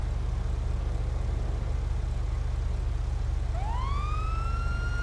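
A police car siren in the video game GTA Online rises in a clear wailing sweep toward the end, over a steady low engine drone and constant background hum.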